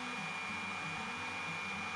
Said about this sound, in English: I used the Mighty Craftsman oscillating spindle sander to further refine the inside of the handle